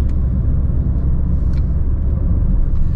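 A car driving along, its steady low engine and road rumble filling the cabin continuously and fairly loud, with a faint brief hiss near the middle and no talk.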